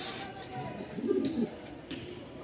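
Giribaz pigeons coo at the Mirpur-1 pigeon market in Dhaka, with a low, throaty burst around the middle over a steady murmur of market background noise.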